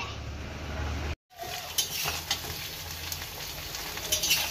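Sliced ivy gourd (kundru) fries in oil in a pan in a home kitchen, a steady close sizzle broken by a brief pause, with light clinks of a utensil stirring against the pan.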